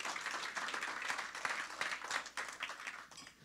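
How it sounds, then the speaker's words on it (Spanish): Congregation applauding during a bilingual church sermon, a steady wash of clapping at moderate distance with no clear voices over it. "Him a big round of applause."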